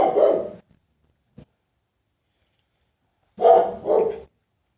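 A dog barks at neighbors getting out of their cars: one short bark, then after a long quiet gap two loud, close barks in quick succession.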